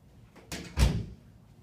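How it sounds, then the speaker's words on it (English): An indoor door is pushed shut in a classroom, giving a single short thud with a brief rattle, moderately loud against quiet room tone and with no talking. "let me shut the door"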